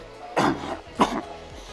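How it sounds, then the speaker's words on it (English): Two quick, husky coughs close to the microphone, the second shorter than the first, with a low steady hum behind. "should need a cough now and then"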